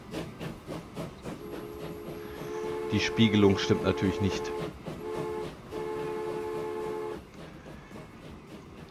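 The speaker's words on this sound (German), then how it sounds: "So, und da kommt unser Zug." In Transport Fever 2, a tank wagon freight train rolls in with a hissing, rumbling approach and sustained horn tones building in the middle, while someone speaks German over it.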